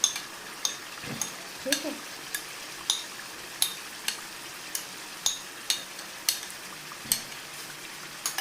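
Chicken handi frying in a pot while being stirred with yogurt and milk, a soft sizzle under regular sharp clinks and scrapes of a spoon against the pot, roughly one every half second, with a brief spoken word.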